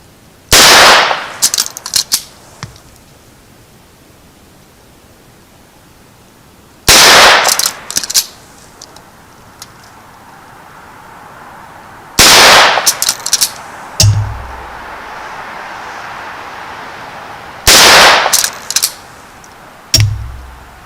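A Henry 17HMR rifle fires Hornady ammunition outdoors: four loud, sharp shots spaced several seconds apart, each followed by a ringing tail and smaller clicks of the action.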